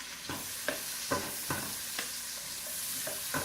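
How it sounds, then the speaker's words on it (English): Onions fry in a pan on medium-high heat before sauerkraut and kielbasa are added, a soft steady sizzle broken by repeated stirring clicks and scrapes, with no talking. "fry your onion until it's translucent"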